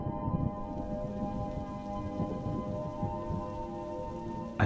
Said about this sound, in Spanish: Ahora imagina cómo comienza a llover.